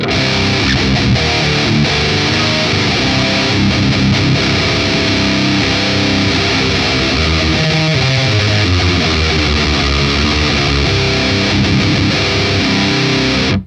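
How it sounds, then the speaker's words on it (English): Heavy metal guitar run through the ML Sound Lab Amped Burger amp plugin, a fizzy, loose high-gain tone likened to a Mesa Dual Rectifier, chugging continuously and loud for the whole stretch with no talk. "the distortion that you get out of this amp is sort of like fizzy and really like flubby sounding, really similar to a Mesa dual rectifier"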